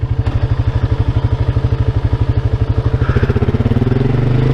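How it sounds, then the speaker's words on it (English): A quad ATV engine idles steadily at a slightly elevated speed, a close, loud, even low chug that quickens a little toward the end. "It's idling a little high though."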